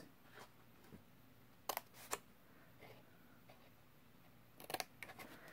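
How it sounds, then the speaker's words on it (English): Scissors snip small cardstock tabs close up, a few quiet crisp cuts spaced apart, then a quick cluster of snips near the end, with faint rustling between them. "let's cut our little tabs here"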